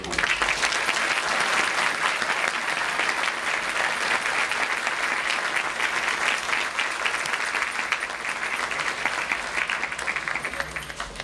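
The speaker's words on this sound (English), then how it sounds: "Please join me in a round of applause for Randy." Sustained, loud applause from a theater audience at a graduation ceremony, a thick continuous roar of many hands clapping that holds steady throughout with no speech.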